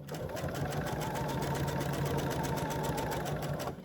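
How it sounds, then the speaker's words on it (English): Sewing machine stitching quilt pieces together at a quarter-inch seam, a continuous close whir with rapid, even needle pulses throughout. "So you should be sewing right there, where your needle should just, looks pretty darn good."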